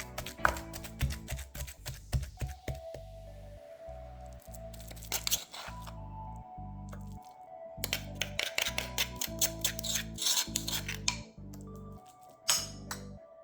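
Fried striper bass pieces pounded and crushed in a mortar, with sharp repeated taps, clinks and crunchy grinding strikes in irregular bursts, close and fairly quiet.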